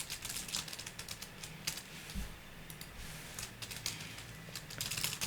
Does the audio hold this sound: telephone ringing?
no